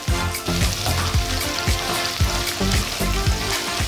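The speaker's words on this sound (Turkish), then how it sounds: "Böyle sebzeleri tereyağında biraz soteliyorum." Shallots and carrots sautéing in butter produce a loud, close, continuous crackling sizzle with rhythmic stirring bursts roughly every half second.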